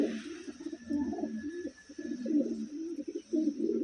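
Wantai pigeons coo repeatedly up close, a steady run of low, throaty, rolling calls that overlap one another over a faint background hiss.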